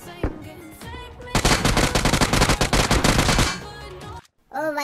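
The EMP-45 gun fires in PUBG Mobile's Erangel map: a loud, close burst of rapid automatic shots lasting about two seconds, with brief game sounds around it.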